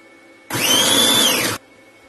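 A Chefbot food processor gives a single roughly one-second turbo pulse while chopping zucchini, a loud close whirring burst that starts and stops abruptly against a quiet background.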